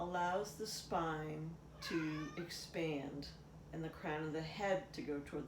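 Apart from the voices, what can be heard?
cat meowing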